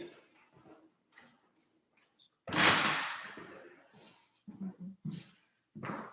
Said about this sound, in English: Let me just close the door for a second.